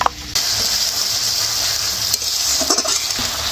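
A spatula stirs spiced papda fish curry with turmeric and chili powder in a hot pan, a steady close sizzle with scraping strokes and a few brief clinks toward the end, no voices.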